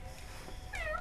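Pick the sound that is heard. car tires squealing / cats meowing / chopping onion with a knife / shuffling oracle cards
cats meowing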